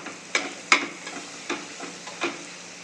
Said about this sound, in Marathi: हे टाकून आता चांगलं परतून घ्यायचं आहे.